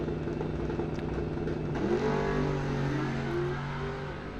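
Bracket race at Coles County Dragway, a Camaro and a 1997 Mustang idling and then launching, engines rising sharply into loud revving acceleration that carries on steadily as the cars pull away.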